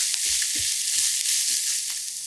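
Minced onion and garlic stir-frying in a pan with browned ground meat for a ragu sauce, a steady close sizzle broken by soft low scraping and stirring knocks.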